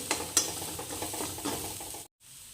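A paste of ground coriander, coconut, garlic and tamarind fries in oil in a wok, giving a soft sizzle with a few sharp stirring scrapes before cutting briefly to silence.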